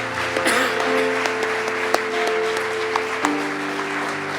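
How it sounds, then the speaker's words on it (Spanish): Congregation clapping loudly during a Spanish-language church service, steady applause over a sustained musical tone with a few sharp accents, lasting several seconds. "Denle un aplauso fuerte al Señor."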